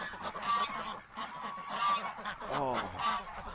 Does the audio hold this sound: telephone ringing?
no